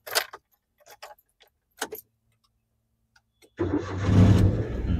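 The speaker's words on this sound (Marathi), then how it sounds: "स्टार्ट अगोदर क्लच दाबायचा, ब्रेक दाबायचा आणि नंतर चावी फिरवायची दोन्ही" A car engine cranks over with a turn of the key during a driving lesson and catches, settling into a steady idle after a few faint clicks and handling noises.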